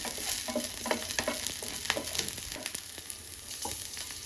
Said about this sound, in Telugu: చూడండి మిరపకాయలు కూడా ఫ్రై అయిపోయాయి